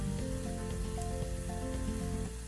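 Turmeric and green chillies sautéing in a pan along with Kashmiri chilli powder for a fish masala curry, a steady, continuous sizzle under soft background tones, unbroken and close.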